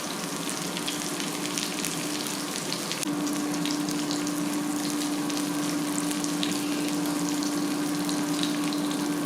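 Provoleta, an Argentinian cheese, fries in a pan over medium heat with a continuous dense crackling sizzle. A faint steady hum joins partway through.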